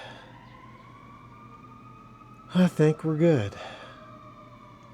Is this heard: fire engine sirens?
yes